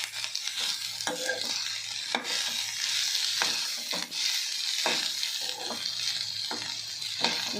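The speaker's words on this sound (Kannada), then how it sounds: "ಈಗ ಹಾಗೆ ಕೈ ಬಿಡದೆ ಆ ಎಣ್ಣೆಯಲ್ಲೇ ಅದನ್ನೆಲ್ಲ ಫ್ರೈ ಆಗಬೇಕು." Bitter gourd sizzles steadily in hot oil while a utensil stirs it, with repeated scraping strokes against the pan at an irregular rhythm, close and fairly loud, no voices.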